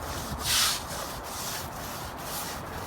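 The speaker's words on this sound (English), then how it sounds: "This stuff here is important to scrape off." Residue is scraped off old salvaged hardwood flooring in steady, rough rubbing strokes, repeating close and moderately loud with a brief harsher burst near the start.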